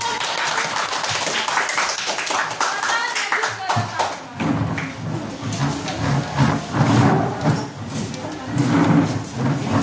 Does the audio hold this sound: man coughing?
no